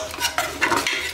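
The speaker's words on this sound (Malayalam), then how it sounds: "നന്നായിട്ടൊന്ന് മിക്സ് ചെയ്യാം." Chicken mandi ingredients with spice mix and black lemon are stirred inside a pressure cooker, giving a few close, quick scraping strokes of a utensil against the metal pot.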